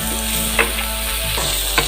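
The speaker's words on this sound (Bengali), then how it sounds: "শুধু নুন দিয়ে ভাজছি তেলে ফোড়ন দিয়ে" Pumpkin and bitter gourd fry in hot oil with salt and tempering spices, giving a loud, steady sizzle close by. A couple of brief clicks from stirring cut through the hiss.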